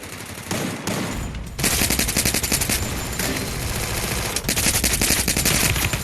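Gunfire in the video game Free Fire: long automatic bursts of rapid shots after a brief lull, loud and sustained with short gaps, no talk over them.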